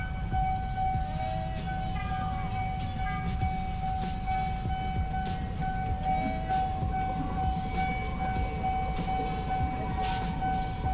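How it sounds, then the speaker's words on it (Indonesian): An electric train rumbles past a level crossing with a continuous low roar and clattering, while a steady high warning tone sounds over it. "Oh jadi ini kereta listrik gitu ya,"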